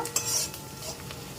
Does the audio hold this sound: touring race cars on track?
no